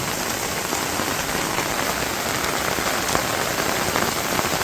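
Heavy rain pours steadily over a village, a dense, even hiss of drops striking surfaces that stays loud and unbroken throughout, with no voices.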